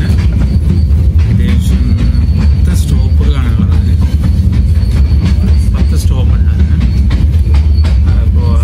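A Borjomi–Bakuriani Kukushka train runs along a snowy mountain railway, with a loud, continuous close rumble and rattle of the carriages and scattered metallic clacks throughout. There is no break in the noise.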